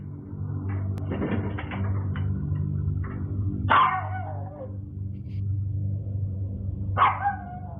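A dog barks twice in a tense, eerie setting, each bark a sharp, loud yelp with a falling whine, spaced a few seconds apart over a steady low hum and faint clatter.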